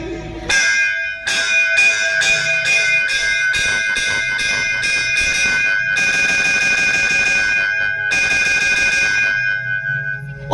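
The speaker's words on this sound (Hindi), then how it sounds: "घंटी बजाती बजाती" A temple bell rings repeatedly in a steady run of bright, ringing strikes with lingering overtones, loud and close, continuing for about ten seconds with brief gaps.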